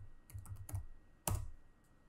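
Someone types on a computer keyboard, a quick burst of about five light key clicks followed by a single louder, sharper keystroke, close and otherwise quiet.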